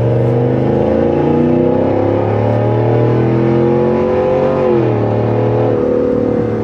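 A 2022 Cadillac Escalade Sport with a CORSA exhaust system revs at half throttle, a deep, loud, steady engine roar climbing and easing in pitch, heard close and alone.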